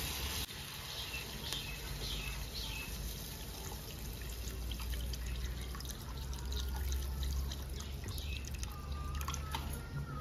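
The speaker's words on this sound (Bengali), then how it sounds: "চিকেনটা কষা হয়ে গেছে, এবার আমি জল দেবো।" Water being poured into a pot of browned chicken curry with potatoes, a steady close trickle and splash running under a low kitchen hum, with faint dripping.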